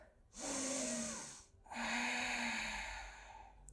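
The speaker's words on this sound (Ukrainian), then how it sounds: "І заключний глибокий вдих." Deep yoga breaths taken on a mat during a full-body session: two long, airy breaths close to the microphone, each a drawn-out hiss, quiet overall.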